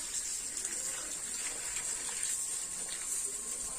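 Water is poured over a kola bou banana-plant bundle, bound with a taro plant, rice plant and turmeric plant, to bathe it for Kojagari Lakshmi Puja, a steady soft gushing and hissing stream without a break.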